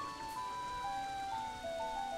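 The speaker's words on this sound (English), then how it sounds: "the second day is a day of rain." Rain falls steadily in the video game Majora's Mask, a soft, continuous patter that holds evenly throughout, with sustained musical tones layered above it.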